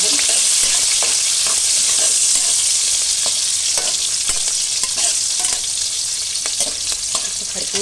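Green chillies fry in hot oil in a pan while being stirred, a loud continuous sizzle broken by repeated scraping clicks of the spoon, with no talk.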